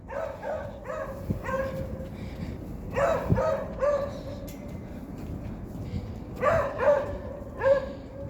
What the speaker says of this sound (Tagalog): Na nagtahol ang iro.